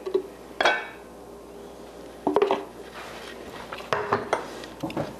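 Avocado tofu dip is mixed in a bowl: a utensil clinks and scrapes against it in a few separate close knocks spaced a second or two apart, with quiet handling in between.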